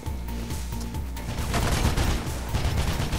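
Shotgun blasts and gunfire in the first-person parkour game Mirror's Edge, dense booming shots over a steady game soundtrack, growing heavier and more sustained in the second half.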